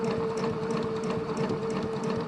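An NCC sewing machine fitted with an 'O' presser foot stitches a 1 cm seam in fabric, its needle rattling in a fast, even rhythm over a steady motor hum.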